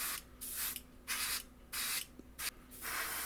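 A Krios PS270 airbrush sprays Tamiya cockpit green paint onto a model Spitfire Mk1a, giving about five short, close hissing bursts separated by brief pauses.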